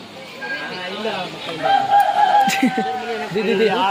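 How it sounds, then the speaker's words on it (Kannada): A rooster crows once at a rock garden park, a drawn-out call rising over nearby people talking and general outdoor bustle. "ಏ ಕೋಳಿ ಕೂಗ್ತದ ನೋಡಿಲ್ಲಿ."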